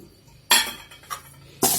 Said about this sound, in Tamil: இதையும் நல்லா கலந்து விடுறோம்